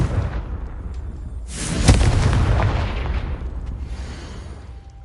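A spell blast in a video game bursts with a sharp crack and a booming, rumbling explosion, loud and close, whose roar swells and then gradually dies away over a noisy background.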